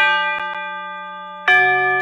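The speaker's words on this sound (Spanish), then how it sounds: "Y estas son chimes ca o campanas." Sampled orchestral chimes from the Miroslav Philharmonik 2 library ring out in two bright struck tones, the first decaying under a couple of soft taps and the second hit loudly at about the midpoint and left to sustain, with no voices.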